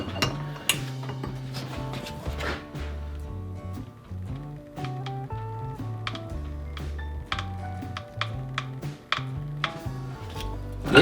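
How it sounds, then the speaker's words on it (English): A wrench with pipe extensions ratchets and clanks on truck suspension bolts during a 2015+ Ford F150 leveling kit install, with repeated metallic clicks and knocks in an irregular rhythm, close up. "put a wrench on here, and I'm gonna put 2 pipes on the bolts"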